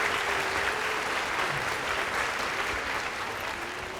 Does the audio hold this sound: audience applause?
yes